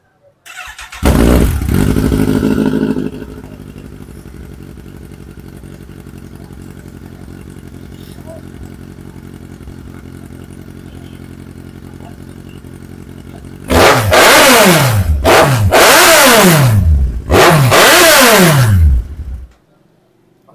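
Kawasaki Z heavy motorcycle revved at half throttle: a short loud blip, then a long steady idle, then three strong rising revs in quick succession, close and loud with no talking.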